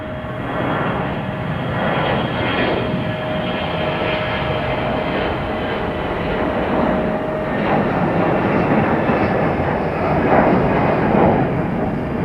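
A jet airliner departs from Raleigh-Durham International Airport, its engines producing a loud, steady roar with a faint whine that persists throughout without any talking.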